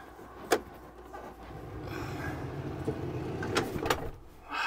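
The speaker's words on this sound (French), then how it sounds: "Je vais refermer la porte." The door of a Westfalia James Cook Classic 4x4 camper van is shut, giving a sharp thud followed later by two quick latch clicks over a soft background hum, with no talking.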